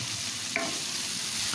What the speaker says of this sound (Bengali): পেঁয়াজটাও এবার একসাথে নাড়াচাড়া করে নেব।